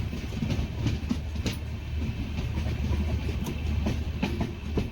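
Sethu Superfast Express from Chennai Egmore to Rameswaram at Sivaganga station, a steady close rumble of rolling wheels with rhythmic clickety-clack beats over the rails.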